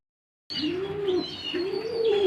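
Large shirting pigeons at a farm give soft, nearby coos in two rising-and-falling calls, with faint chirps above them, close and clear with no voices.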